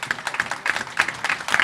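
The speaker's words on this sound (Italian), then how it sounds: "ma un grande applauso" Audience applause at a cream-puff eating contest in Orentano, Pisa: a brief burst of dense, steady clapping from a crowd, fairly close and continuous throughout.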